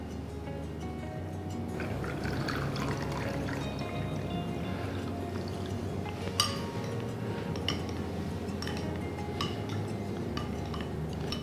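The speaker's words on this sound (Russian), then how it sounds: "Разведем 25 грамм живых дрожжей со стаканом теплой воды." Warm water is poured to dissolve 25 grams of live yeast in a glass, with a soft trickle and splash, faint dripping and occasional light clinks of a utensil against the glass in a quiet kitchen.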